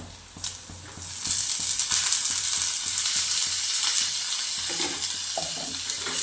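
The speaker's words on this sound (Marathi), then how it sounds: "आता टोमॅटो छान परतून घ्यायचं" Tomatoes sautéing in a pan for tomato chutney, added to onions already fried until reddish, a steady close sizzle with scattered stirring taps throughout and no talk.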